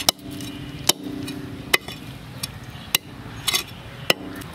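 A knife cuts into a large pilot fish of about 10 kg, giving sharp, sparse chopping knocks against the board, about six strikes over a steady background hiss.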